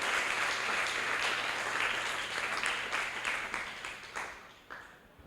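A church congregation breaks into applause during a sermon, a dense round of clapping that holds steady before thinning out and tapering off toward the end.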